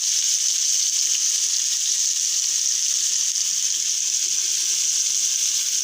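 Cumin seeds fry in hot mustard oil in a pan, giving a steady, bright hissing sizzle that holds level throughout with no talk over it.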